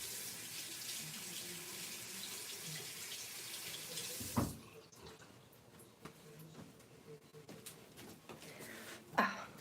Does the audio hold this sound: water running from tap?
yes